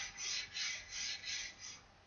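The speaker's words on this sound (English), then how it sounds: "you rub it on the bow like that" Rosin cake rubbed back and forth along a double bass bow, a close, steady rasping scrape in about five even strokes with no voices.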